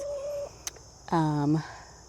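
Hens clucking and crooning nearby, a steady tone then a longer harmonic bird call, with background chatter faint underneath.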